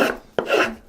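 A traditional wooden-bodied spokeshave takes heavy shavings from wood: two close, dry rasping strokes with a sharp scrape between them, close and fairly quiet.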